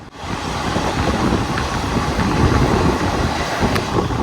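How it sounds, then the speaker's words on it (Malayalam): At Karakkad station, the Pune–Ernakulam Superfast overtakes the Mangaluru–Coimbatore Express with a loud, continuous rumble of passing rail cars, steady wheel noise and a few clacks along the track. "ഷൊർണൂരിന് മുമ്പുള്ള കാരക്കാട് സ്റ്റേഷനിൽ വെച്ചിട്ട് നമ്മുടെ Pune Ernakulam super fast Mangalapuram Coimbatore എക്സ്പ്രസിനെ overtake ചെയ്യുവാണേ"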